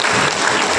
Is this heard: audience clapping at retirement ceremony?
yes